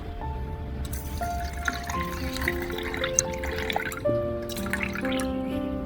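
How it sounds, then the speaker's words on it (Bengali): Water pours into a tiny cooking pot for miniature cooking, a close trickling and dripping with light splashes, heard over steady music with no talk. "এখন আমি পরিমাণ মতো পানি দিয়ে দেবো।"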